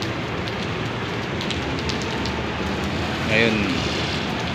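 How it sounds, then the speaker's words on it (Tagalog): Light rain falls outdoors as a continuous soft hiss, with a person talking over it and a brief louder sound near the end. "medyo nag-uulan-ulan pa rin"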